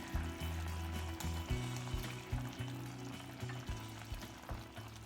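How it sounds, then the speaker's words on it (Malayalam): Chopped tomato pieces go into a chicken curry cooking with tender coconut, bringing a steady close sizzle and frying hiss with a few stirring knocks and shifts in the pan throughout, with no talking. "ഇനി നമുക്കിതിലേക്ക് ഒരു തക്കാളി ചെറിയ കഷ്ണങ്ങളായി അരിഞ്ഞത് കൂടി"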